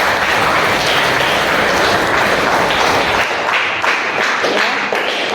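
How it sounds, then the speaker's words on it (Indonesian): Steady applause for group 1 in a classroom presentation session, a dense wash of many hands clapping at once that holds for several seconds, with no talking over it. "kita kasih tepuk tangan untuk kelompok 1"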